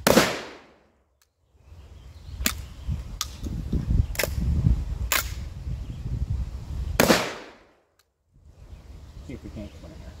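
Sulun Auslof tube-fed beak-action shotgun firing at a range: a few sharp, loud blasts with echoing tails, separated by quiet gaps and lighter clicks of the action.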